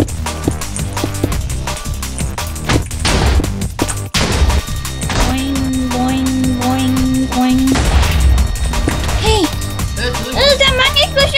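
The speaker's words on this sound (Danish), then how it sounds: "Der er mange eksplosioner!" Rapid bursts of explosions in the Minecraft video game during a dragon wars match, dense and continuous with crashes and booms, while children talk excitedly over the game sounds.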